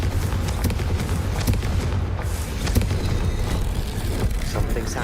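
A Confringo fire spell blast erupts in Hogwarts Legacy, a sustained low roaring rumble with a few crackling bursts layered over it, loud and steady for several seconds with no talk.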